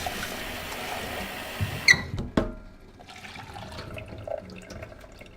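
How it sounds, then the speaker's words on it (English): Tap water runs steadily over foraged weed leaves being rinsed in a camp strainer, a broad wash of flow with a few knocks and splashes partway through before settling to a softer trickle. "Just going to give them a quick wash."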